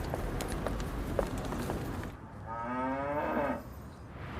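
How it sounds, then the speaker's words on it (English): A cow moos in a long, rising-and-falling low bellow lasting about a second and a half, heard close and loud after a stretch of outdoor farm ambience with faint background noise. "We even got the help of Lulu, Britain's cutest cow."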